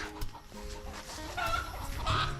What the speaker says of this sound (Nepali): कुखुराले हप्तु हैरान बनाउँछ यहाँ चाहिँ